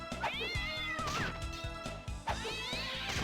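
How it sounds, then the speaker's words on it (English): Cartoonish cat meow effect from Castlevania: Dawn of Sorrow, two drawn-out meows over steady thumping game music, loud and close. "as funny as the cat noise is at first"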